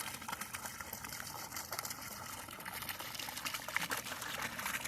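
Water trickles steadily into a garden goldfish pond in mid-February, a soft continuous pouring and dribbling that stays even and fairly quiet throughout, with no voices.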